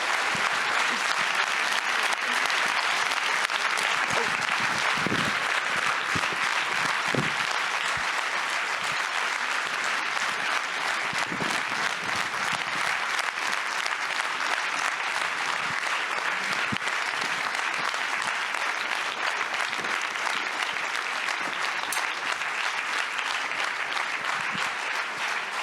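Sustained audience applause fills a hall after guests are introduced at a FIFDH 2024 human rights film festival panel on Russian society and the war in Ukraine, steady and dense throughout with no voices over it.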